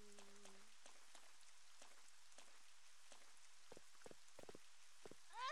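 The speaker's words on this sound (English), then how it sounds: "It's frickin' raining." Soft, light rainfall in Resident Evil Code Veronica X patters steadily at low volume, with a few scattered clicks and a brief rising tone near the end.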